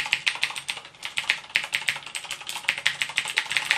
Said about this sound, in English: This is the Cherry MX Green.